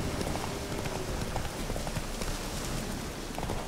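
A horse's hooves in The Witcher 3 clop at a steady running pace beneath a constant rushing, rain-like wash of game ambience.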